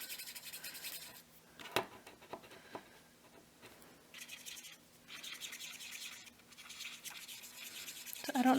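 Archer & Olive acrylograph pen drawn quickly across paper, soft scratchy strokes in bursts with brief pauses and a sharper tap, close and quiet with no voices.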